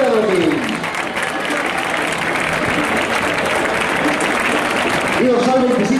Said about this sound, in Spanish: Ese aplauso fuerte.